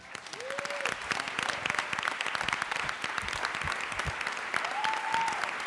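An audience at a PechaKucha summit applauds after a speech, sustained moderate clapping with a few voices heard briefly over it.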